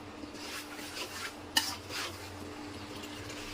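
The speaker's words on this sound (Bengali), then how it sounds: "মশলাগুলো মিশিয়ে নিচ্ছি, এখন অল্প কিছু সময়ের জন্য ঢেকে দিব।" Meat and spices are stirred in a karahi over forty years old, a faint scraping with a soft metallic clink partway through, under quiet background hum.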